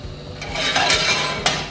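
A metal pan clanks onto a stove, several clinks and scrapes of cookware close by, moderately loud against a quiet kitchen.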